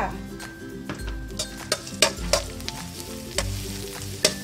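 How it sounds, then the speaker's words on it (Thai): Pounded chili and garlic hitting hot oil in a wok, a loud, continuous sizzle and crackle with intermittent scraping and stirring knocks from a utensil, close up and without talk. "พอน้ามันเริ่มร้อนแล้วพริกกับกระเทียมที่เราตำใส่ลงไปเลยค่ะ"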